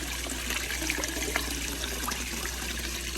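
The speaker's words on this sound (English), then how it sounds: "keep this slanted forward so the water just pours out" Water pours steadily from an aquaponics pipe into a goldfish pond outdoors, a continuous low-level splash and trickle with no pauses and no talking.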